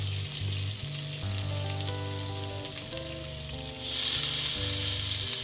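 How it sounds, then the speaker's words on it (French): Cod fillets sizzle in a hot pan, a steady crackling hiss close by that grows louder and brighter toward the end, with no talk over it. "on va mettre nos pièces dans le tout de suite sur notre poêle"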